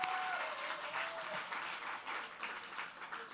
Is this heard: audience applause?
yes